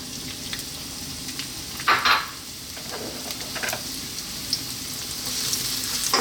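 Onion drops into hot organic soya oil over high heat for a vegan chickpea potato curry, setting off a lively continuous sizzle with a few sharper pops and light utensil clinks, no voices.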